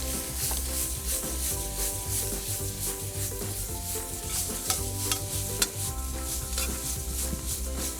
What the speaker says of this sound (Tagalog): Totos lang natin yung ating shrimp.